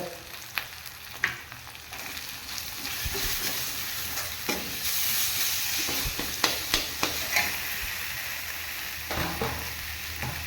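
Carrot and other vegetables fry in a pan with ginger garlic paste, chilli powder and coriander powder, a soft continuous sizzle punctuated by repeated spoon-stirring clicks and scrapes, close and fairly quiet, with no speech.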